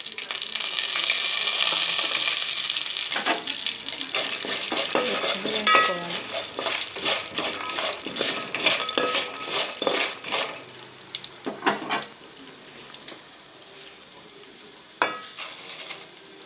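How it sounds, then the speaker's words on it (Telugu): Coriander seeds and peanuts dry roasting in a pan for a curry leaf and drumstick leaf spice powder, with steady stirring and scraping, soft crackles and occasional clinks of a spoon against the pan. "మంచి సువాసన వచ్చే వరకు ఎర్రగా వేపుకోవాలి"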